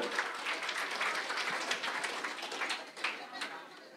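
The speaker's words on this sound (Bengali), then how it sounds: "আমি মঞ্চে আহ্বান জানাচ্ছি অলি খানকে, প্লিজ একটা হাততালি।" An audience at the BEONTVUK Cooking Challenge 2025 claps steadily, a dense burst of applause that carries on for several seconds before easing off slightly.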